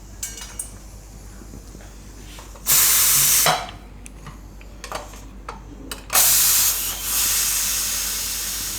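A pressure cooker, with the stove turned off, is opened on a kitchen stove while cooking paneer-stuffed bitter gourd. Two loud bursts of escaping steam hiss, the second trailing off slowly, between quieter clicks and handling noises.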